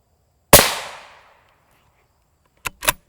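An M193 rifle round is fired at an armor plate in a special rifle threat test: one loud, sharp report with a ringing decay, followed seconds later by two brief, close cracks.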